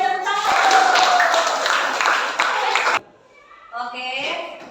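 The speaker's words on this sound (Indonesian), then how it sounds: "tepuk tangan" A classroom of students claps for a few seconds after a group presentation in an Indonesian-language lesson; the clapping is fairly loud and busy, then stops as a voice speaks.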